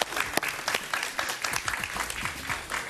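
A studio audience on a Spanish-language interview talk show claps in a dense, lively burst, with a few sharper claps standing out and faint voices underneath.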